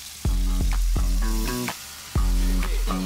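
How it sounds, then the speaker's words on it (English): Swordfish steak searing in hot oil, with a loud, close sizzle that flares in bursts as the fish is laid in and moved, steady crackling throughout. "You want to sear it on each side for about 2 minutes until it's brown."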